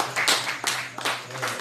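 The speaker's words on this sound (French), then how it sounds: "on va l'applaudir sur ce qu'elle a dit." Scattered clapping from a small audience at an evening religious teaching session, a few hands applauding in uneven bursts with a low steady hum beneath.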